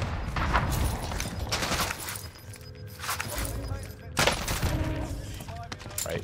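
Gunfire and shelling in Call of Duty Warzone, with bursts of rapid shots and heavier impacts in clusters throughout, mixed under game noise and players talking.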